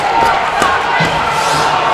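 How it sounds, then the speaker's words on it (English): Spectators in an ice hockey arena at a high school boys' sectional championship murmur and shout in a dense, continuous crowd roar, with a few sharp knocks and thumps rising through the din. "Crowd not happy."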